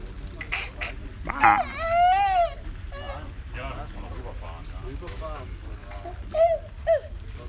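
Ducks quack a few times at a moderate distance on a golf course, their calls breaking through an adult talking softly to a small child amid light background chatter.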